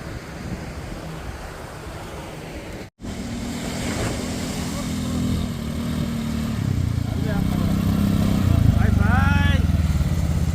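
A motorbike ridden near a beach, its engine droning steadily and building slightly in level, mixed with strong wind and surf noise; a brief dropout early on and faint voices in the background.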